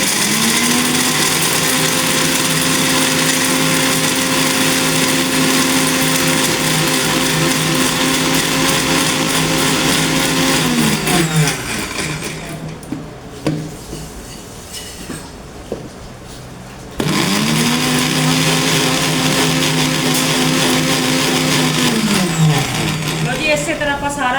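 Electric grinder whirring at high speed while powdering makhana (fox nuts), a loud steady motor drone that cuts out briefly for a few seconds and then starts again.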